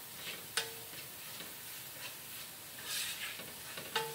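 Vegetables sautéing in a pan for Filipino-style spaghetti sauce, a faint soft sizzle broken by a few sharp utensil clinks against the pan.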